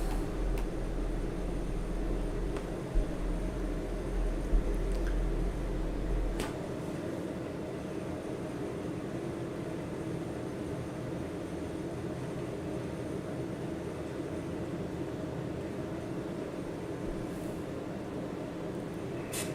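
Steady aircraft engine drone at full throttle in Microsoft Flight Simulator during a NeoFly cargo mission from Polson Airport, a continuous even roar with a deep low rumble that eases slightly after the first few seconds.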